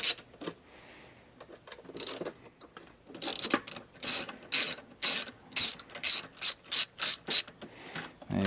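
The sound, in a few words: ratchet loosening bolts on a Harley fuel pump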